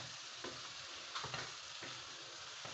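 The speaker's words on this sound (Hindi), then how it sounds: "और अब मैं इनको 2 से 3 मिनट के लिए भूनूंगी।" Meat and beetroot for a Pakistani gosht dish frying in a pan: a constant close sizzle with soft stirring scrapes every half second or so, no voices.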